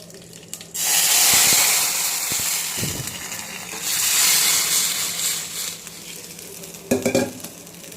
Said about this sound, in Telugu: తాలింపు వేగిపోయింది. ఇప్పుడు ఇందులో చారు పోసేసుకోండి.